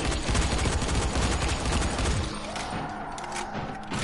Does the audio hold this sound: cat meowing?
no